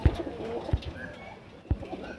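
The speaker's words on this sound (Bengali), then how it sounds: "জিরিয়া ম্যাড্রাস নর পায়রা আইস কোয়ালিটিটা দেখুন" A male Jiria Madras pigeon coos nearby, its low, throaty calls repeating in short bursts with pauses between them.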